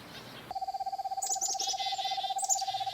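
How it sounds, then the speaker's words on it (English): Black-capped chickadee calling in a frozen winter forest: a steady, rapid series of pure whistled notes repeats for several seconds, joined by brighter chirping notes overhead, fairly close and clear with no talk. "That sound, both playful and alert, belongs to one of Canada's most beloved birds, the black-capped chickadee."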